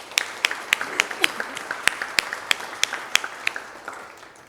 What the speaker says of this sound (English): If we could just give a round of applause to Mark and Macy